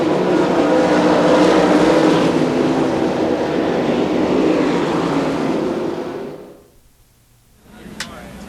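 Sprint cars roar loudly past at Knoxville Raceway during a 1996 B main race, a dense continuous engine din that drops away abruptly near the end, leaving a brief quiet gap before a faint sound returns.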